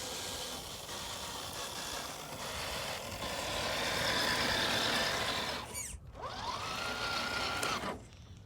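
A Redcat Gen8 RC car fitted with a Surpass Hobby 10t 550 motor on a 2S battery drives past with a thin, steady electric motor whine, rising in the middle before a quick dip and a fresh burst.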